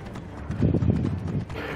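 Rapid clip-clop of horse hooves at a steady gallop in the video game Assassin's Creed Origins, moderately loud and close, with no voices present.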